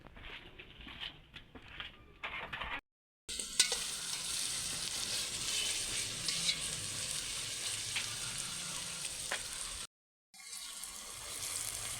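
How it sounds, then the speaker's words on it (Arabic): Chopped onion frying in a mix of ghee and oil for stuffed cabbage, a steady close sizzle and crackle with occasional stirring and no talk. "خرطة البصله وحاطه السمنه والزيت، هنعمله مع بعض"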